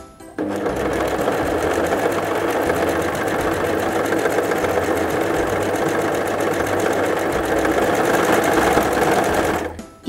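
Brother CV3550 coverstitch machine running steadily while sewing a narrow cover stitch with two needles and the looper thread, a loud continuous mechanical whir lasting nearly the whole stretch with no talking.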